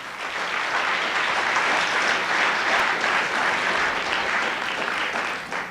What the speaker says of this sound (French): Je vous demanderai de les applaudir très fort quand même parce qu'ils sont venus de très loin.